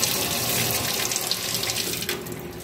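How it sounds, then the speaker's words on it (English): A steady rush of water pouring from a tap into a sink, continuous and close, with no talking. "And I have the hot water running."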